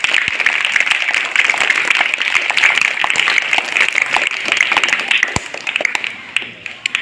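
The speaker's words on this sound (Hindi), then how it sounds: "मैं चाहूँगा एक बार जोरदार ताली बजाने" Loud, sustained clapping from an audience at an Azadi Ka Amrit Mahotsav gathering, a dense patter of many hands holding steady for several seconds before easing slightly at the end.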